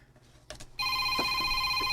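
A mobile phone rings with an incoming call, a loud sustained electronic tone that starts abruptly after a few faint clicks. Soft background noise sits under the ringing.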